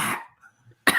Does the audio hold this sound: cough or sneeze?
yes